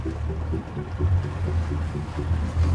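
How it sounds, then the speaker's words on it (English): A motorboat with electronic steering cruising on open water, its engine a steady, loud low drone with continuous hull and water wash throughout, no talking. "My first time ever driving this boat."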